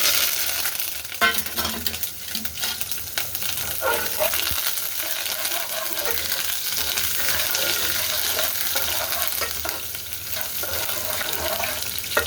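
Small onions and curry leaves fry in a pan, giving a steady, loud sizzle that runs throughout with occasional stirring scrapes.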